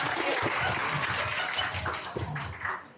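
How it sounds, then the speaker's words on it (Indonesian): Live talk audience at a Gramedia bookstore event in Bandung clapping, a soft, diffuse wash of many hands from across the room, fairly quiet and fading slightly near the end. "Kita tepuk tangan seikhlasnya."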